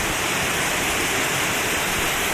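A waterfall pours in an even, dense broadband rush, close and constant with no breaks, and nobody speaks over it.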